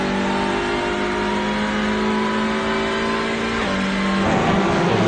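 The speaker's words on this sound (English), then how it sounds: "hearing that engine note going through the gears" A TCR touring car engine in the iRacing sim at the Red Bull Ring drones loudly and steadily, climbing in pitch, then shifts up a gear with a sharp drop in tone before climbing again.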